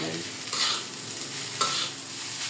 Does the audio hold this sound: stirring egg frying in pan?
yes